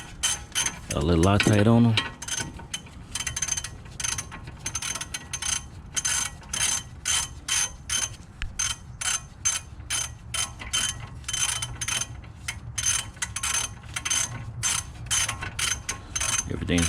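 Rapid ratchet clicks from a wrench tightening the front brake bolts on an Audi A7 (C7), repeated in steady bursts close by, with a short spoken remark near the start.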